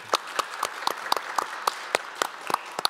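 A modest audience at a higher-education conference plenary session claps in sparse, uneven bursts, individual hand claps audible rather than a full roar, close and brief with no talk over it.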